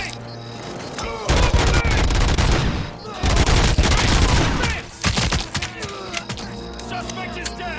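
Heavy bursts of automatic gunfire fill a RoboCop: Rogue City firefight, with loud sustained volleys, splintering impacts and brief lulls between them, alongside occasional shouted voices.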